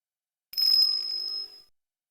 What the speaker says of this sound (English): That sound. Is that a bell?